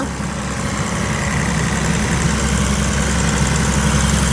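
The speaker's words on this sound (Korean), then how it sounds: "엔진 소리도 전체적으로 양호합니다" A used Kia Mohave Master engine idles at a steady low rumble, constant and close, with a faint mechanical vibration and no talking.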